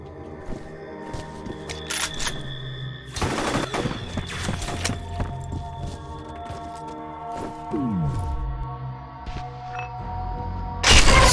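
Gunfire in the shooter F.E.A.R. comes in several sharp, loud bursts spread over the stretch, with sustained game music and ambient tones humming beneath and a final heavy blast at the end.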